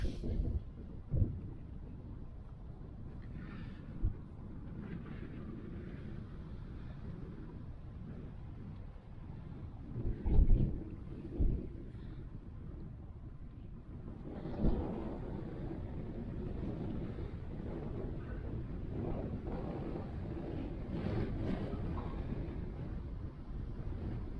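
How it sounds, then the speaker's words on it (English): Outdoor wind buffeting a microphone beside a camper van, a steady low rumble with occasional gusty thumps, fairly quiet throughout. "it's a little bit too windy"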